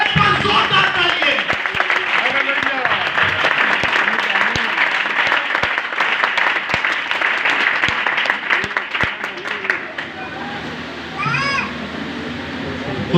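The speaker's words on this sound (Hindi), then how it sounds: "एक बार जोरदार तालियां" Loud, sustained applause from a church congregation at a Hindi-language Christian service, with sharp individual claps and excited cheers over the steady clapping before it thins out near the end.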